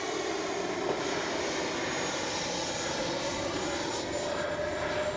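FMS Avanti S 90mm electric-ducted-fan RC jet in flight, a steady high-pitched whine with a faint roar that holds for about five seconds at a distance, fairly quiet, with no voices.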